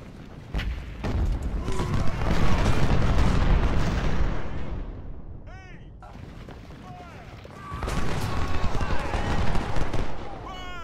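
Heavy booming cannon fire and explosions from the video game Ultimate General: Civil War rumble in two loud waves with a brief lull between, while a voice talks over the barrage.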